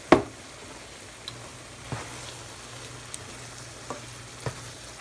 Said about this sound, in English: So I'm going to put the ragu, original rich smooth ragu, in here and mix that up.